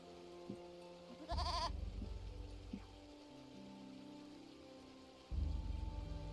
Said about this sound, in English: Then we've got some goats on a bridge.